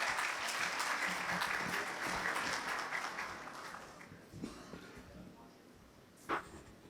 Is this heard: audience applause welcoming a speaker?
yes